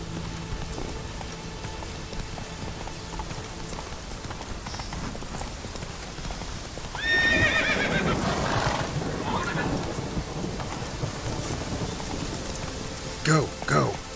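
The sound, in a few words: horse Roach galloping in rain, from video game Witcher 3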